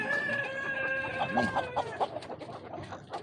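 Several Chinese chickens cluck and squawk nearby while a rooster crows partway through, a busy farmyard chorus at moderate volume.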